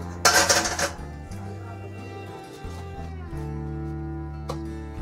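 A spoon scrapes and clinks against a bowl while spice paste with ajwain is mixed for rainy-season banana and potato pakoras, loud at first, then quieter clatter under a steady tonal background.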